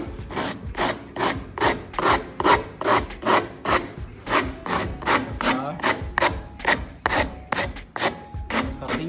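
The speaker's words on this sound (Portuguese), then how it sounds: "Essa parte eu tenho que dar uma taqueadinha com a lixa" Sandpaper rubbing back and forth over a wooden board, a steady rhythm of about twenty loud, close, rasping strokes, with no talking.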